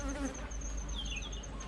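Honeybees humming at a beehive during a spring hive inspection, a dense, steady, close buzz with individual bees droning past, no talking.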